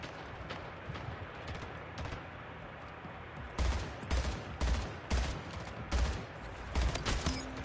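Rapid gunfire bursts in the sci-fi arena shooter Splitgate, with dense crackling shots building to louder, punchy volleys in the second half, no voices over the firing.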